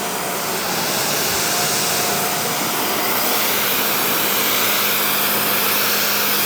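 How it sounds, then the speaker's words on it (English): A Greenworks Pro 3000 PSI pressure washer sprays through a 40-degree nozzle, giving a loud, continuous hissing rush of water that stays even throughout, with no speech. "This one is the 40-degree nozzle."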